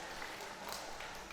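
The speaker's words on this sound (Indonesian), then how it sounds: "tepuk tangan dong buat kita semua" Audience applause at a batik-making workshop, a dense, even wash of clapping from a crowd filling the whole short moment without a break.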